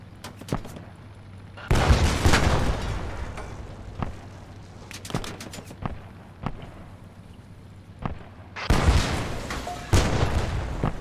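In Post Scriptum, a WWII battle game, a PIAT anti-tank shot strikes a Panzer IV amid scattered gunfire, with two heavy booming impacts standing out over sharp isolated cracks and distant battlefield rumble.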